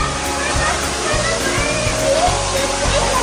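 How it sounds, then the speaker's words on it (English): Small waterfall in a bird aviary, a loud continuous rush and slosh of falling water close by, with a child's and adult's voices talking over it. "Serrah, is that a waterfall?"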